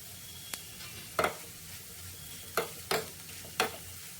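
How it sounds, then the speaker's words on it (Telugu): Dried red chillies and onions fry in oil for a rasam tempering, giving a low, steady sizzle. A few sharp scrapes and clinks of a spoon stirring the pan cut through it. "తాలింపు ఇలా వేగుతున్నప్పుడు ఎండుమిర్చి కూడా కొంచెం బ్లాక్ అవ్వడం స్టార్ట్ అయ్యాయి చూసారా"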